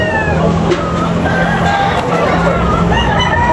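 Amid the dense din of a chicken market in Tabunok, Talisay, roosters crow in overlapping calls, some near and some farther off, with clucks under steady crowd noise.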